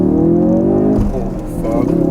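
A Ford Focus RS pulling hard in first gear, its engine note climbing loud and close before a sharp break as the gear changes, then building again, with a voice speaking over it.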